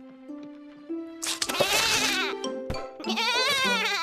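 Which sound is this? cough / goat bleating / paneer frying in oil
goat bleating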